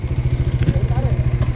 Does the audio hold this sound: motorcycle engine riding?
yes